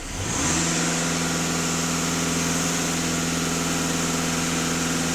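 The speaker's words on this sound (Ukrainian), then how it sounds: "даю газ в пол" A VW CC 2.0 TDI diesel engine with a clogged particulate filter spins up and is held at full throttle, a quick rise into a sustained, steady, loud high-rev drone close by for several seconds with no talking.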